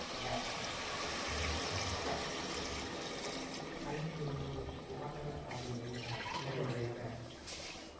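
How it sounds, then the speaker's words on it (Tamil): Water pours steadily from a cup into a pot of rice for Dindigul-style biryani, a continuous splashing gush lasting throughout, with faint background voices beneath it. "நான் ரெண்டே கால் தண்ணி ஊற்றுறேன்"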